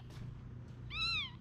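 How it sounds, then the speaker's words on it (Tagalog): A newborn kitten gives a single clear, high meow near the end, close and alone after a quiet room stretch. "nanganak na yung pusa natin"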